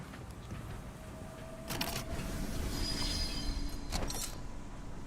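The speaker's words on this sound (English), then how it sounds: "Ooh, train." A train passes by in a video game, a broad rumbling roar that swells at about the midpoint and holds steady, with brief brighter clanks near the start and end.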